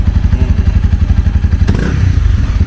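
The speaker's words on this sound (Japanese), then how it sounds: "フォーストはまたうるさいね" A 2019 Honda CB250F four-stroke motorcycle engine idles loudly up close with a rapid, even thumping pulse, a brief clatter cutting in midway.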